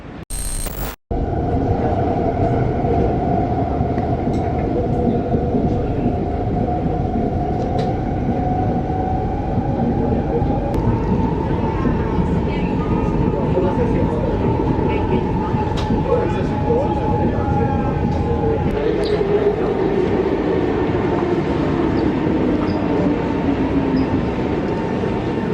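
A passenger train ride in Singapore, with a constant loud rumble of the carriage and a motor whine that rises and shifts in pitch, while faint voices murmur in the background.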